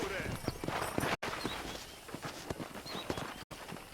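Hooves clip-clop at a walking pace in the video game Red Dead Redemption, amid layered game ambience and music, with faint bird chirps; steady and moderately close.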